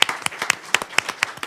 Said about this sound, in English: a round of applause for our wonderful panelists